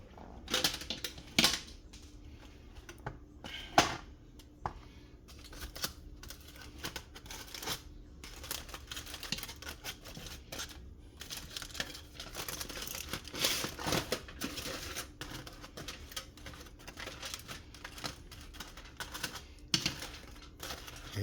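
Aluminum foil crinkling and tearing as it is peeled off a hot tray of oven-baked ribs, a run of sharp crackles and rustles over about twenty seconds, close and fairly quiet, with no talking.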